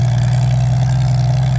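A vintage tractor with a straight-six engine and straight pipes runs at a steady idle at a vintage engine rally, a loud, close, even low drone with a smooth rumbling hum.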